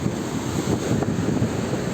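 Sea waves and wind along the Alexandria shore between Cleopatra and Sporting, a steady broad wash of surf under gusting wind buffeting the microphone, continuous with no voices.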